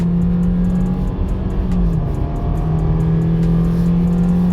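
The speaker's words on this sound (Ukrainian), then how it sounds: "Зараз я вам покажу, як вона буде розганятися від нуля до сотні." A 2018 Subaru Legacy 2.5 sedan with automatic transmission accelerates from standstill toward 100 km/h, its engine droning loud and steady from inside the cabin with a brief pitch dip at a shift, and no talk.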